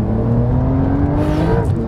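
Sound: Porsche 911 Carrera 992 accelerating through a corner

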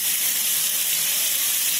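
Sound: finely chopped onions added to hot pan for chole, sizzling

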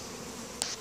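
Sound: honey bees buzzing at a crowded beehive

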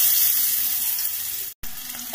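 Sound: onions frying in oil in a pan

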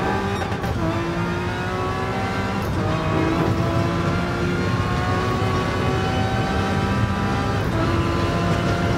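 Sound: Jaguar XJR-9 race car engine in Gran Turismo Sport video game

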